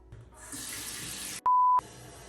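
A bathroom tap runs while a face mask is rinsed off, giving a steady close hiss of flowing water that is cut by a short electronic tone before the flow resumes.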